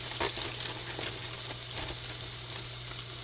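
Food deep frying in a pan of oil bubbles and sizzles close up, with an irregular spatter of small crackling pops over a steady hum.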